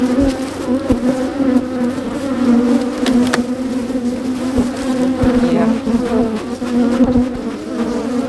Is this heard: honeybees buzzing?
yes